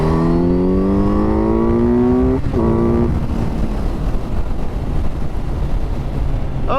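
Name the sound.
DRZ400SM motorcycle accelerating hard in third gear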